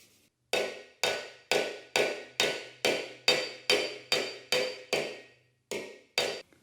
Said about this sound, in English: I think I'm done hammering on this thing